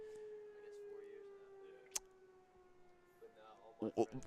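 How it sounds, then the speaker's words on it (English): A civil defense siren wails from downtown Ewing, New Jersey during a summer baseball game, a steady faint distant tone held under a commentator's voice as other voices briefly rise near the end. "as a apocalypse siren is now sounding from downtown Ewing,"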